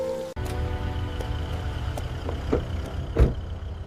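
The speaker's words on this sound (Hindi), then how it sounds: "पूरा शहर तेज बारिश में डूबा हुआ था।" Heavy rain falls over a city at night, a steady wash of downpour with a low rumble beneath and scattered sharper splashes and drips, one louder burst near the end.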